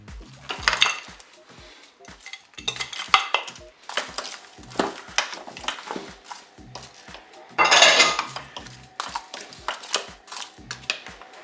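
Courgette pieces tumble into a Cookeo multicooker pot for a ratatouille, a busy run of clinking, scraping and knocking against the metal bowl with one louder clattering burst, close and without talk.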